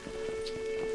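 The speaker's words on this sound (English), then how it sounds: "I want the rain to go past." Rain falling in the video game A Highland Song, a steady soft patter with scattered louder drops and a thin sustained tone underneath, heard alone without voices.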